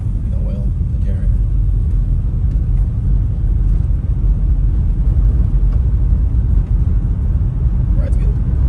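A 1970 Buick Skylark on the road, a steady low engine and road rumble running without a break beneath conversation inside the car.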